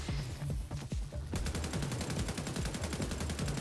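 Rapid automatic gunfire from shooting in The Division 2, a dense burst of regular shots that becomes steady and loud partway through, layered over game music and effects.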